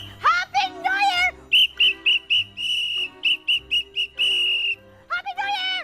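On the Pinoy Big Brother reality show, someone blows a whistle in a run of sharp blasts, some short and some held, loud and close. Voices can be heard just before and after.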